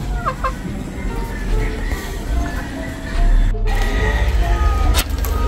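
Chickens and other fowl cluck and murmur continuously around a farm where pigeons nest outside their coops, a steady close barnyard bed with occasional sharper calls and brief bursts.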